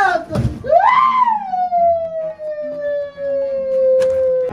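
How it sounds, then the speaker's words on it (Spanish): An ambulance siren wails loudly and close by: one long rising-and-falling howl that slowly glides lower, with a short noisy burst just before it starts. "Ambulancia."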